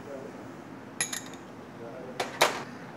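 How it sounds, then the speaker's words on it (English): A utensil stirs a cheese, garlic, onion and cilantro stuffing in a bowl, making a few bright clinks and scrapes against the bowl over a quiet background. "And we mix it all up"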